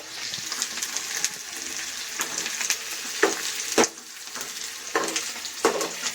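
Oil spattering and sizzling hard in a pan while frying, with sharp pops and crackles breaking over a continuous hiss, close and fairly loud, no one talking.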